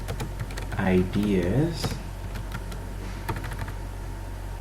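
Quick bursts of typing on a computer keyboard, close and fairly soft, with a person speaking over the first part before the keystrokes continue alone.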